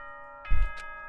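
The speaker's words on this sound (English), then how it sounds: "Ding dong, bing bong." A two-tone ding-dong announcement chime from the Danganronpa video game sounds once, fairly loud and close, over a steady game background hum.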